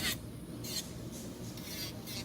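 An electric nail drill files away a lifted edge of acrylic nail in short, repeated raspy bursts, close and fairly quiet, with no talking.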